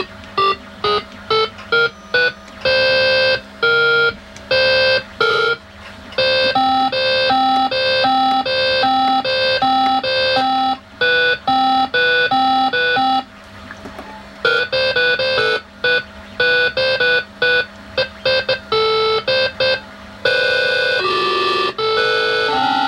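A Pimoroni Piano HAT on a Raspberry Pi plays electronic beeping tones, held notes and quick runs of single pitches repeating in steady, melodic patterns with brief gaps, close and clear with no voices.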